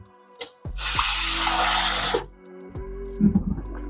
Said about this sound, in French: J'ajoute un peu d'eau seulement.